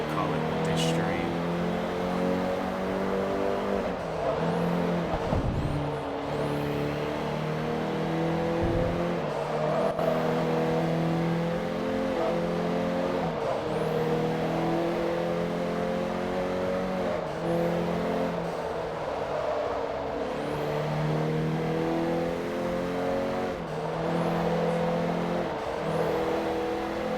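Race cars accelerating in the Forza Motorsport 3 racing game, a steady loud engine drone with repeated upshifts and revving over nearly half a minute, heard beneath a person talking.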